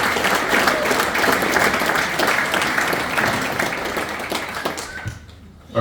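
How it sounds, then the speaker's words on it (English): A round of applause from the audience at a GAA club draw, with dense steady clapping that fills the room for about five seconds before tapering off. "So can we just give them another round of applause again,"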